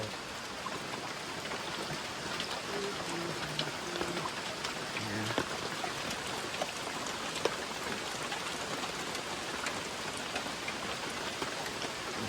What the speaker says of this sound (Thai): เดี๋ยวเราเนี่ยร้อยฝนหยุดเนี่ย เราก็จะเดินทางกลับ